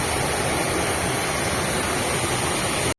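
Tenogtog Falls in Mayoyao pours with a dense, steady roar of rushing water, close and unbroken, filling the whole stretch with no voices.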